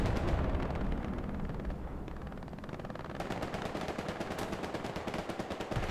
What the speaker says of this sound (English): friendly artillery kills him